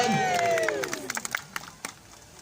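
An audience at a sea lion show at Blackpool Zoo breaks into scattered clapping and cheering, individual claps standing out, after a voice that trails off at the start.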